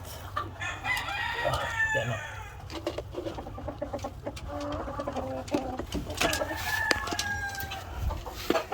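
A busy flock of nine hens clucking and calling throughout, with a rooster's long drawn-out crow rising clearly near the end, close and fairly loud.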